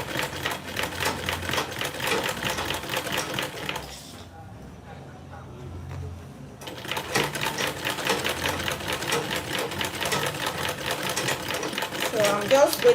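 Sewing machine top stitching a tote bag, a fast steady rattle that runs, stops for about two seconds, then starts again, close and loud, with a person talking over it.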